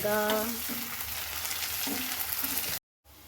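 Garlic and onions frying in a pan until brown, an even close sizzle with a few stirring scrapes, then a brief dropout before the frying resumes.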